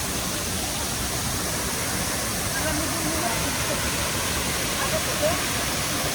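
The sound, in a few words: river and waterfall rushing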